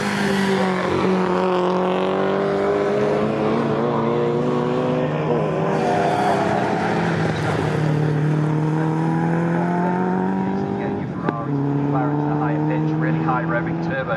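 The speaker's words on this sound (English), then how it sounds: "it's that really low, bassy rumble of the V8." Continuous low, bassy engine rumble from V8 race cars at Snetterton circuit, shifting pitch as revs change, with someone talking over it throughout.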